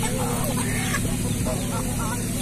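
Chickens clucking at an outdoor poultry market in Palmeira dos Índios, Alagoas, with scattered fowl calls over a busy, humming background and faint voices nearby.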